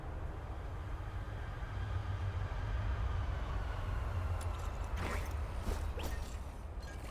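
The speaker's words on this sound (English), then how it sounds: "I heard a train." In the video game Duet Night Abyss, a train rumbles past with a steady low roar, then sharper rattling clacks and whooshes near the end as it goes by.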